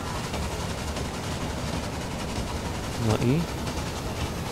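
A train moving along tracks in the railway game Railway Empire, a steady dense rumbling drone throughout with a short burst of speech partway through.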